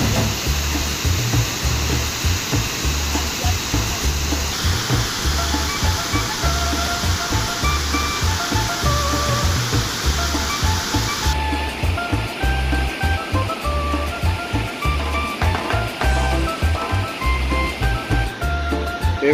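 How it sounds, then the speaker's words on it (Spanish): Paterson Great Falls roars in a steady, dense wash of falling water, heard close and loud throughout with no let-up and no talking. "Es ahí donde podemos ver pues toda esa cascada que cae."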